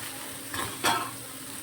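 A spoon scrapes through okra (lady's finger) frying in a pan, with two quick stirring strokes over a steady soft sizzle, close and alone.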